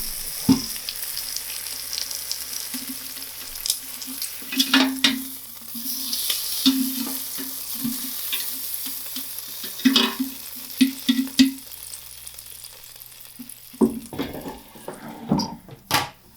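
A steak cooks in an air fryer set to 200 degrees, giving a steady sizzle and fan hum with a droning tone. Scattered clicks and handling knocks come through, clustered near the middle and again toward the end, and no one speaks.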